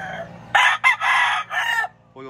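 A gamefowl rooster crows close by, a loud drawn-out call broken into several segments, followed by a short cluck.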